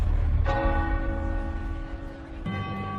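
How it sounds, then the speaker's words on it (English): A deep church bell tolls from a town square to signal an execution, one booming strike ringing out with a long sustained hum before a second strike lands near the end. "the bell signaling the execution begins to toll. Its booming sound crushes the last spark of hope within Solovei"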